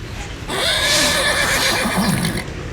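A horse gives a loud, wavering whinny close by, rising from a low noisy background and trailing off after about two seconds.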